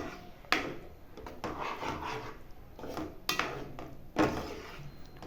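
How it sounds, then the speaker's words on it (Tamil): A spoon scrapes and rubs around a pan of white sauce made with salt and milk, in irregular strokes with a few sharper knocks, close and fairly quiet. "இப்போ நல்லா மிக்ஸ் பண்ணி விட்டுக்கோங்க ஒரு 2 மினிட்ஸ்க்கு."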